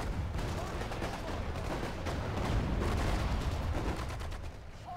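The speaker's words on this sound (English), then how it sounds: "The artillery is definitely doing some good work here." Dense, continuous battlefield din of artillery and gunfire in the Sudden Strike 4 strategy game, set at the Battle of Ypres, steady booms and crackling volleys blending into a constant roar.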